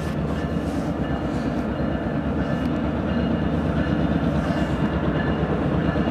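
GEXR 581 freight train rolls past on the main line with a steady, loud, continuous rumble of wheels and railcars, faint clickety-clack throughout, heard alone without any talking.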